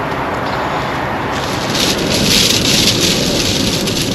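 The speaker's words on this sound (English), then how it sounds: "I've been fighting heavy winds and rain almost the entire time I've been in Indiana" Heavy wind and rain roar outdoors on a blustery March day in Indiana, a loud, steady broadband wash that swells slightly in the middle, with no talking.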